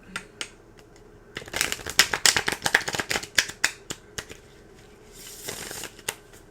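Tarot cards from an Aquarian deck are shuffled close by in bursts of rapid riffling flicks, dense in the middle and trailing off into sparse taps, with a brief exhale.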